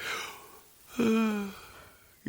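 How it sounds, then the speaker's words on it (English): A single tired human yawn after a long drive home, a drawn-out breathy vocal exhale that rises and then trails off, heard alone and fairly close. "I made you yawn."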